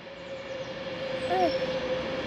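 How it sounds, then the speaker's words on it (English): A Pendolino train rolls past on a diverted Sunday route, a steady rumbling wash with a faint sustained tonal whine over it, fairly near and briefly swelling. "every Sunday they divert the Pendolinos through here"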